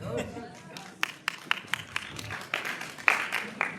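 Scattered claps from a seated audience, a handful of sharp distinct hand strikes spaced irregularly with a voice talking underneath.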